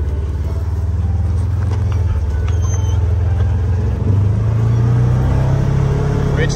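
Car interior engine rumble as the vehicle pulls away, a steady loud low drone that rises in pitch as it accelerates through the gears, with no talk heard.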